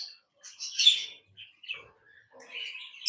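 Lovebirds in a colony aviary give scattered high chirps and tweets, several overlapping calls in short bursts with quiet gaps between, moderately near and alone with no voices.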